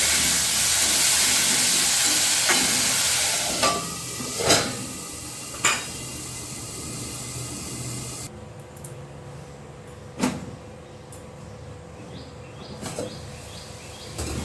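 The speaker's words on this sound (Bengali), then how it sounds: "আলুটা ভাজা ভাজা করে নেব।" A steady hissing sizzle of potatoes frying in a pan with salt and turmeric, with intermittent metallic scrapes and clinks of stirring; the sizzle quiets partway through.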